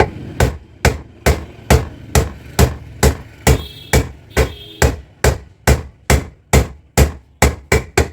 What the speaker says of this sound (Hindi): बाकी हर जगह सीधी हथौड़ी चलेगी